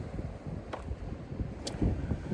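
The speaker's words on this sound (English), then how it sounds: "It is windy, but not as windy as last time." Steady wind buffets the microphone with a low rumbling roar, gusting slightly stronger toward the end, with no voices.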